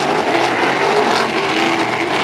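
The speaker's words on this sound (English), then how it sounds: "you can really hear the roar of these engines" Race car engines roaring at the opening of an oval racing track, a loud continuous drone of several cars circling at speed, steady throughout without a break.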